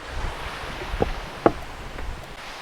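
A steady wash of rushing mountain stream water fills the background, near the Zhenetskyi Huk waterfall, with a couple of brief knocks and no voices.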